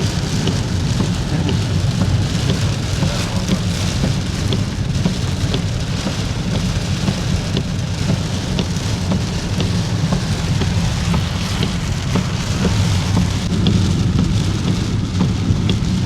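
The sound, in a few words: heavy rain without storm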